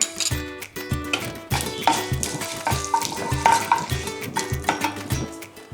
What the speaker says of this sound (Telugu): ముందుగా ఆవాలు అయితే వేయించుకుందాం